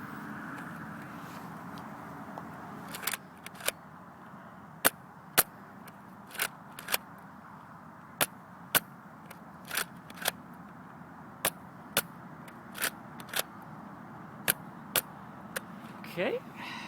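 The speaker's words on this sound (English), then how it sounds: "there's our single shots fired off" Nerf N-Strike Elite Rough Cut 2x4 blaster firing single shots outdoors, a series of sharp, evenly spaced pops standing out from steady background noise, about twenty shots over a quarter minute.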